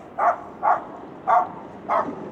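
A dog barks at a passing mobility scooter: four distinct, fairly close barks spaced at an uneven, steady pace, with quiet ambient background and no talking.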